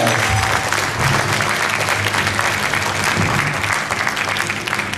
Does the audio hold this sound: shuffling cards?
no